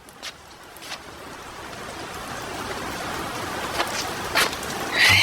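Heavy rain pours down outside, a dense, steady hiss of falling water that builds slightly louder over a few seconds, with a few faint knocks and clinks nearby and no talking.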